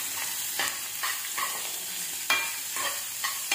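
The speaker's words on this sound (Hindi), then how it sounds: "और अब इनको हम अच्छे से फ्राई करेंगे" Chopped onion and a piece of ginger fry in oil for a masala omelette, a steady close sizzle broken by several scraping stirs of a spatula across the pan.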